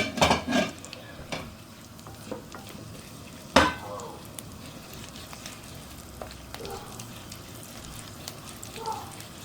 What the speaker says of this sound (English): put in our Jira first and Ajwain. Give it a mix.